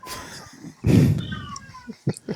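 A cat meowing indoors, a drawn-out whining meow after a loud burst, with a few shorter chirps following, close and fairly loud among brief background noises.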